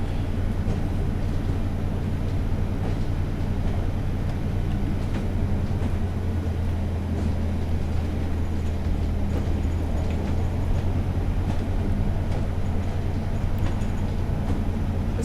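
An ex-Arriva Class 142 Pacer train runs on the West Somerset Railway in the Train Sim World video game, giving a steady, droning rumble of engine and wheels that holds constant throughout.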